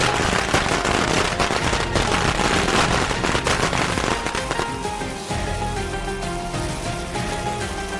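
A long string of firecrackers crackles in rapid, dense bursts, loud and near, and then thins into scattered pops and a fading hiss.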